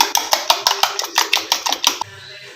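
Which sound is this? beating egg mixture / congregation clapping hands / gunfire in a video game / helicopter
beating egg mixture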